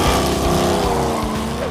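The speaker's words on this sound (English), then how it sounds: "the 68 Charger we call the General Mayhem. It sounds epic." A 1968 Dodge Charger project car called General Mayhem runs with a loud, steady, full-throated engine roar that holds constant for a couple of seconds at close range.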